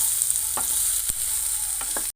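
Drumstick (murungakkai) masala sizzles in a pan with salt and chilli powder while a spoon stirs it, steady frying hiss broken by a few sharp scrapes against the pan, with no voices, ending abruptly.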